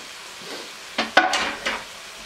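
Chopped cilantro, ginger and garlic dropped into a hot pan, giving a few sharp bursts of sizzle and stirring scrapes, fairly close and alone over a steady low kitchen hiss.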